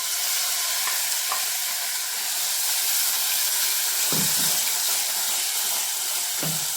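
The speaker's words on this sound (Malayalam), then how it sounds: "അരപ്പും ചേർത്ത് ഇളക്കുന്നതോടൊപ്പം തന്നെ ചക്കക്കുരു നമ്മൾ വേവിച്ച് ഉടച്ച് വെച്ചിരുന്നില്ലേ അതുകൂടെ ഇതിലേക്ക് ചേർത്ത് കൊടുക്കാം" Ground coconut paste hisses and sizzles over wilted drumstick leaves in a hot pan while being stirred, a steady frying wash broken by a few low knocks and scrapes of the spoon, with no voices.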